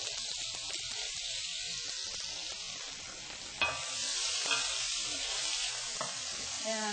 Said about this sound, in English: then we'll just throw in the chorizo